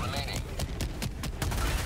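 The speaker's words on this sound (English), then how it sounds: "Dude, that fucking cannon is insane." A cannon fires in the video game Helldivers 2, delivering a rapid, dense barrage of loud, booming shots that run continuously through the short stretch.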